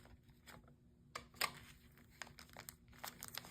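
Paper candy bar wrapper crinkling as it is folded around the bar: soft, irregular rustles and sharper crackles in short bursts, close but quiet, with no speech.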